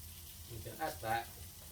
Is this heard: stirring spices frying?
yes